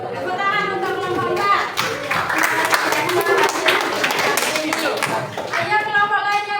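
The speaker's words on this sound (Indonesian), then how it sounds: "Tepuk tangan untuk kelompok" Classroom clapping for a student group at a junior high school, a dense burst of many hands clapping with children's chatter mixed in, steady throughout and fairly close.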